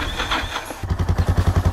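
A black motorcycle starts up and settles into a close, loud, throbbing idle with a fast, regular pulse after a brief rustling at the start.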